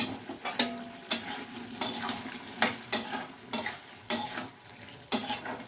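Jackfruit curry with ghee and garam masala is stirred in a pan, a spatula scraping the metal in sharp, regularly spaced strokes over a soft, steady sizzle, heard up close with no talk.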